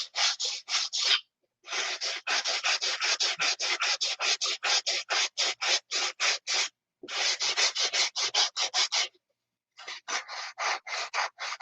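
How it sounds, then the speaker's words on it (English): Rapid rhythmic rasping strokes of sanding foam wing ribs, in quick bursts with two short pauses, close and fairly loud, no voices. "you're just sanding down to the foam"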